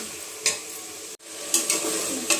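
Brinjal frying in oil in a pan, a continuous close sizzle broken by a few sharp stirring scrapes, with one brief cut to near silence partway through and no voices.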